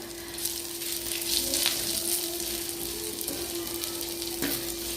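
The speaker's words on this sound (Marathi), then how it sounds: "मी पूर्ण छान असा मसाला एकत्र करून घेते आणि छान भाजून घ्यायचं आहे आपल्याला" Masala spice mix dry-roasts and sizzles in a pan for a spicy village-style drumstick curry, giving a steady crackling hiss with occasional scrapes and stirring clicks close by.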